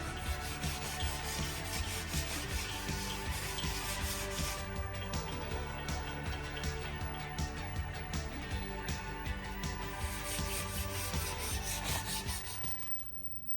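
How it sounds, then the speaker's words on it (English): Steady back-and-forth hand sanding on a XK Falcon car body panel, a continuous close, gritty rubbing with rhythmic strokes that fades off at the very end. "Back to sanding."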